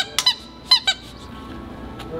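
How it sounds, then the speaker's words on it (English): A dog biting down on a squeaky toy, giving four sharp, high squeaks in two quick pairs, then a quiet room with no talk. "You'd have to bite on it real hard to give it, to make it squeak."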